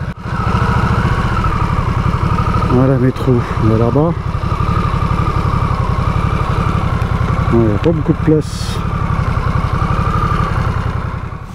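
A Harley-Davidson Nightster motorcycle engine idles close by with a steady, loud, throbbing rumble throughout, while someone speaks French over it.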